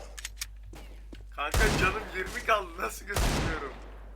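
Gunfire in a one-on-one shooter video game match: a sparse patter of small pops opens the clip, then two loud broadband bursts of rapid shots arrive close and heavy, with game sounds between them.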